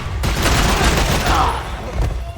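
Gunfire in the video game Max Payne 3 roars as a dense, continuous fusillade of loud overlapping shots and booms, filling the whole moment with a brief voice barely emerging underneath.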